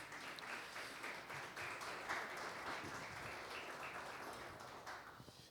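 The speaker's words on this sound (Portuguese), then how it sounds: "Você pode aplaudir o Senhor Jesus." Church congregation applauding together during an evangelical service, steady sustained clapping that fills the room for several seconds with no speech over it.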